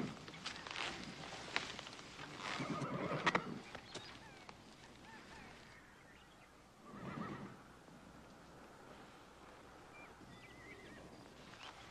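A black horse whinnies in a couple of rising bursts near the start, then snorts again more faintly, with soft outdoor rustle in between.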